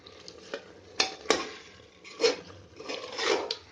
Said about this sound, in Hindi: तो उसको भी मसाले के साथ बहुत अच्छे से भून लेंगे।